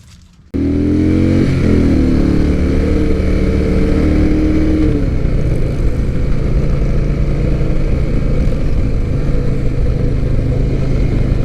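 A 2020 Indian Chieftain Elite motorcycle starts up close and revs, its engine pitch climbing through a gear, then settles into a steady loud cruising drone with wind rush, with no talking.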